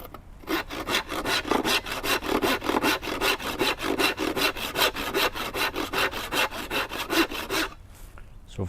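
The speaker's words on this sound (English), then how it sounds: "So of course, when you're sawing, you want to start from the corner" Steady back-and-forth strokes of a hand saw cutting through wood for a short spindle stool joint, about three strokes per second, close and crisp, ending abruptly with no talk.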